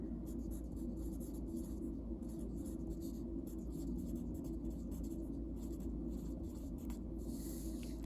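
A pen writes a label on a histogram, giving soft scratchy strokes and light taps that repeat steadily over a constant low background hum.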